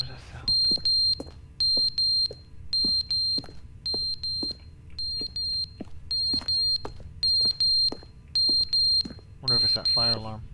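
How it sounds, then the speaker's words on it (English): A fire alarm in the video game The Stanley Parable: Ultra Deluxe rings in a steady, loud pattern of repeated electronic beep pairs across the whole stretch, with a short burst of other game sound near the end. "Wonder if it's that fire alarm."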